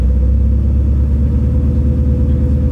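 Audi SQ5 fitted with a BBM active sound module set to mimic a V8 engine, giving a loud, steady, deep idle rumble that holds evenly throughout with no voices.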